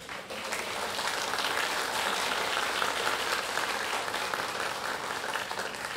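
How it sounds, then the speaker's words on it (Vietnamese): A church congregation at a thanksgiving Mass for a Jesuit priest's 25th anniversary of ordination applauds him, a broad, sustained roomful of clapping that stays even throughout. "Xin mời cha đứng lên để cộng đoàn cho tràng pháo tay chúc mừng cha."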